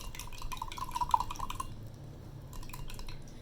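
A spoon stirs a salt solution vigorously in a glass, making quick, light clinking and tinkling taps that come in a burst, then ease into faint swishing.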